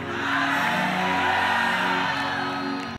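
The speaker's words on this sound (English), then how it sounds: "let me hear big shouts of hallelujah" A church congregation at a morning service raises a loud, sustained wave of shouting and whooping, a dense crowd roar that holds steady for about three seconds before cutting off.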